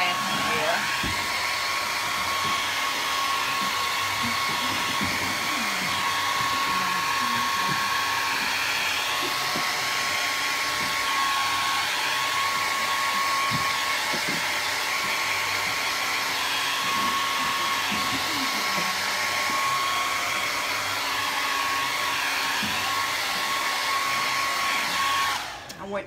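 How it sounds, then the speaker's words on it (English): A blow dryer runs continuously at close range, drying sandy stencil paint on a painted table, a loud, steady whirring whine with occasional faint clicks and knocks from handling. "That blow dryer is the best thing I ever bought."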